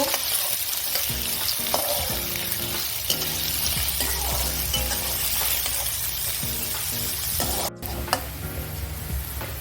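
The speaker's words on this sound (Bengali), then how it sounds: "তেলটা গরম হলে এর মধ্যে দিয়ে দিচ্ছি পেঁয়াজ কুচি, পেঁয়াজটাকে লাল করে একটু ভেজে নেব।" Chopped onions fry in hot oil in a pan, a steady dense sizzle with repeated scraping stir strokes throughout, close and continuous.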